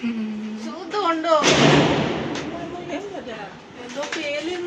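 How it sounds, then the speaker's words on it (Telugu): A single firecracker bursts nearby with a sudden, sharp broadband crack that fades over a second, surrounded by people chatting. "ఏదో పేలింది, టపాస్ పేలింది."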